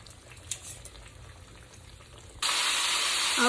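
Chicken frying in hot oil at high temperature for chicken and waffles gives a sudden, loud, continuous sizzle that starts partway through and holds steady to the end, after a quieter kitchen stretch.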